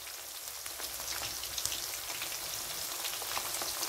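Chicken pieces for orange chicken frying in a batch in an oil bath, a steady close hiss with scattered crackling pops, no talking.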